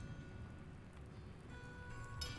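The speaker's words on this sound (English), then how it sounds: "the rain is very like impressionistic here, very soft" Soft, impressionistic rain falls in the video game Promesa, a faint, even hiss of drops with no voices.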